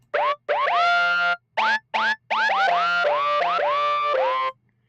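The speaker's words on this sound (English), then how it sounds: "this is my little scream patch that I made" A self-made synth scream patch in Reason 12 fires a string of loud, bright notes that each swoop upward in pitch, arriving in quick bursts with short gaps and playing alone without any voice.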